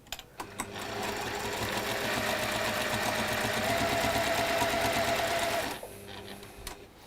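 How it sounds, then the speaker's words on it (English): A sewing machine stitches fabric along marked lines, giving a few starting clicks and then a close, steady mechanical whirr for about five seconds before it stops. "you can sew on both of those marked lines"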